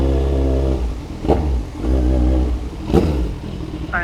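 A Kawasaki Z1000 motorcycle engine idles with a deep, loud rumble, then blips twice to sharp revs that drop back down. The sound is close and clear, with no voices.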